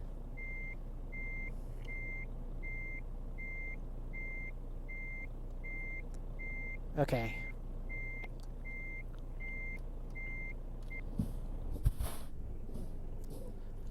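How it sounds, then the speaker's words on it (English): A truck in Euro Truck Simulator 2 idles quietly while steady reversing beeps repeat at an even pace, with a brief air-brake hiss and a short spoken word. "Oh, these truck sounds are perfect."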